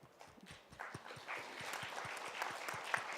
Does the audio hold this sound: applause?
yes